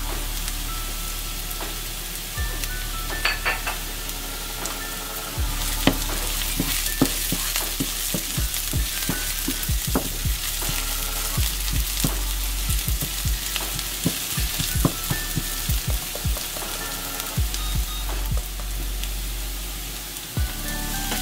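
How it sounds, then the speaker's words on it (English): Garlic frying and sizzling steadily in a pan for risotto, with frequent sharp clicks and scrapes of stirring over a constant loud hiss, no voices. "Add garlic and fry it for 1 minute."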